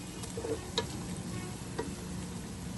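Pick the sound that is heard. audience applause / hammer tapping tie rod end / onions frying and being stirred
onions frying and being stirred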